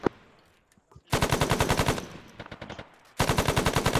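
Machine gun fire in the military video game ArmA 3, two long, loud, evenly rhythmic bursts of rapid shots separated by a quieter pause with a few scattered distant pops.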